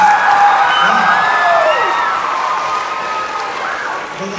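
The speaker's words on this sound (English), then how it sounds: "You can give yourself some applause" Crowd applause at a book launch, with scattered cheers and whoops, fairly loud and sustained, with voices mixed through it.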